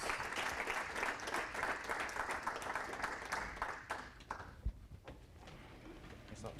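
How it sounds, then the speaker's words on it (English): A crowd applauds steadily after a startup week talk, dense clapping that thins and fades toward the end. "Another round of applause for John Dori, please."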